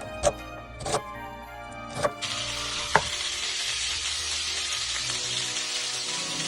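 Beef shanks brown in a pot: a few sharp metallic clinks and knocks at first, then a steady close sizzle that fills the rest of the stretch.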